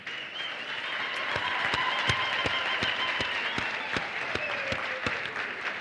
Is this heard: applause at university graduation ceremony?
yes